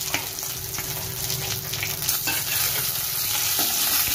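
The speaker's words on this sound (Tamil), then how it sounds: "சோம்பு நல்லா பொரிஞ்சிட்டு பட்டை கிராம்பு ஏலக்காய் சேர்த்துக்கலாம்." Whole fennel seeds, cinnamon, cloves and cardamom fry in hot oil for a Tamil mutton kulambu, giving a steady close sizzle with a few sharp crackles and the scrape of stirring throughout.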